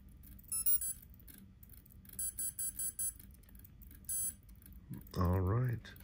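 A Hobbywing 80 amp ESC restarting gives short repeated electronic startup beeps in a few quick groups, then a rising multi-tone chime near the end, faint and close.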